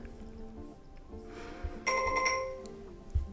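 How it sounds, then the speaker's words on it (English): A mobile phone sounds a hurricane warning alert, a loud sustained electronic tone that starts abruptly and holds for about a second over quiet background game music. "It was just an alert on my phone that said, hey, you have a hurricane on the way."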